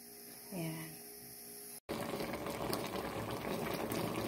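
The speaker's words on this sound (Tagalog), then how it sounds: "Ayan, kumukulo na." A covered pot of tilapia stew (paksiw na tilapya) bubbles at a steady boil with a low hum underneath, after a brief rising tone and a sudden cut; the bubbling continues evenly.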